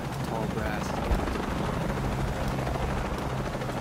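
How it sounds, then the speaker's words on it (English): Helicopter in the video game Shadow of the Tomb Raider, a steady low rotor drone filling the whole stretch at even loudness, with faint game ambience mixed in. "Helicopter."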